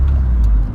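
A 1984 Vauxhall Cavalier being driven, its low engine rumble and road noise heard from inside, steady and close over a brief stretch.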